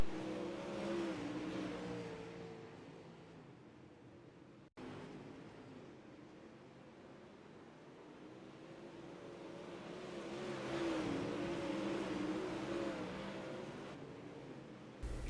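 Super late model race cars racing at Volusia Speedway, engines roaring as the pack swells past in two broad waves, distant and moderately loud, with no voices.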